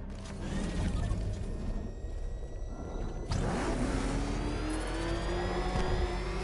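In a video game, a car engine revs and whirs as it drives, its pitch climbing steadily through a rising acceleration, with clattering mechanical noises mixed in and no talking.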